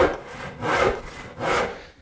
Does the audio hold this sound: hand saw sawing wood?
yes